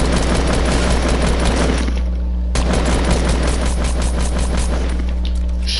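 Rapid bursts of Fortnite gunfire crackle loudly and almost continuously, with a short break midway before the shooting resumes, and no talk over it.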